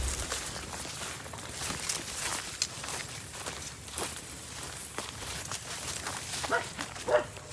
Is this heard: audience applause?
no